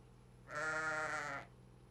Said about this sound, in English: Oh, is that sheep coming in there?